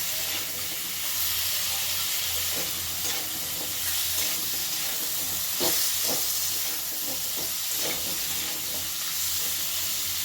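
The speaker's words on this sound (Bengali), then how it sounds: "খুব ভালো করে নাড়াচাড়া করে একটু ভাজা ভাজা মতো করে নেব।" Labra mixed vegetables fry with salt and turmeric in a pan, giving a steady close sizzle and hiss broken by repeated scraping and stirring strokes of a spatula, with no talk.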